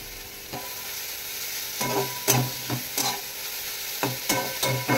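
Carrots fry in hot ghee in a wok, a soft steady sizzle punctuated by several sharp scrapes and knocks of a spatula stirring, close by.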